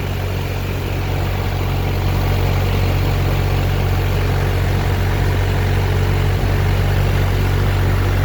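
A New Holland TD4 65B tractor engine runs steadily and loud at close range, a continuous low diesel drone with no breaks and no voices over it.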